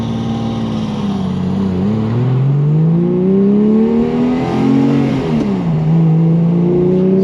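A Porsche 911 GT3 engine revs hard while driving, its pitch climbing and dropping through quick throttle blips and shifts, loud and close, with no talk.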